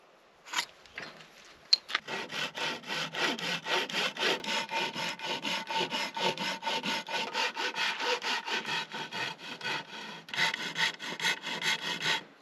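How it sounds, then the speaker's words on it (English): Small Japanese hand saw cutting wood, a fast, even run of rasping push-pull strokes up close after a couple of sharp knocks at the start. "I love hand tools, especially these little Japanese saws. They're just so satisfying to use."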